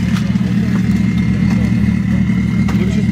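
A heavily reworked turbocharged drag racing car on wide slicks idles loudly and steadily up close, a dense low rumble with a lumpy, pulsing rhythm and no other sounds over it.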